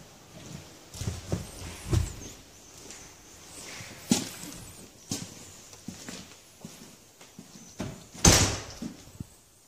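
An old door is pushed open inside the abandoned Dobroyd Mill, built in 1829: a run of scraping knocks and dull thuds in an echoing space, ending in one sharp, louder bang near the end.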